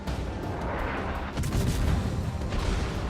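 The guns of a Yugumo destroyer fire in a naval video game, a rolling rumble of booming shots that swell and overlap over a steady low background.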